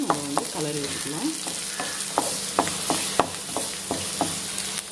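Onions sautéing in a pan for a Tamil garlic curry, a steady close sizzle with a spoon stirring and scraping in repeated strokes.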